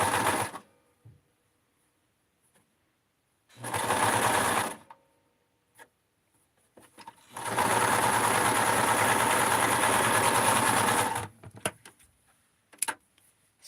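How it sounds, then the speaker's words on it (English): A sewing machine stitches a cotton hem casing in bursts: a short run of about a second, a pause, then a longer steady whirring run of about four seconds, close and alone with quiet gaps and small clicks between. "I just put the sewing machine here, and I'm missing the casing, so I'm sewing on this little area."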